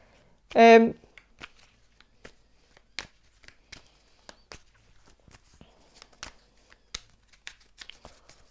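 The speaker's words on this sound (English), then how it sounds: "I'm gonna shuffle maybe some of these archetype cards" One short, crisp riffle of cards being shuffled up close, followed by scattered light taps and handling noises.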